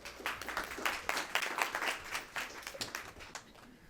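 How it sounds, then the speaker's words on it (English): Faint, scattered applause from an audience at an industry event, individual claps clearly separated in a loose, uneven rhythm that fades slightly toward the end. "Little round of applause"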